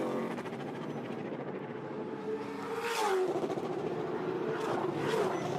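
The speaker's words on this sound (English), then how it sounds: "we watch the cars fly by on the speed shot on the front straightaway" Race cars scream past on the front straightaway of a short oval track during the Snowball Derby, a steady engine roar with sharp passing whooshes midway and near the end.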